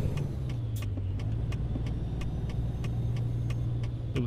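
A car passing on the highway in American Truck Simulator, a steady engine and road rumble held at close range, with faint regular ticking over it.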